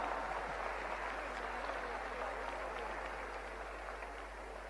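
An audience at a Delhi robotics league event claps steadily as a dense, even wash of applause that fades slightly toward the end, with no voices over it.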